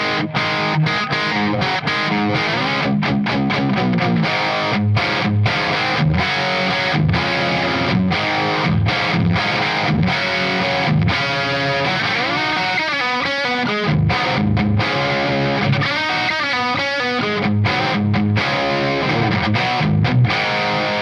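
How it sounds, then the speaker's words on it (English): Electric guitar played through a Marshall Plexi amp and 1960BX cabinet into an audio interface, giving a loud, continuous overdriven classic rock tone with chugging riffs and sustained chords throughout, with no voices. "So the Plexi, what I have now, sounds like this."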